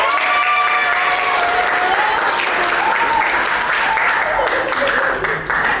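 Sustained audience applause fills a classroom, loud and steady from start to end, with a few voices and whoops mixed into the clapping.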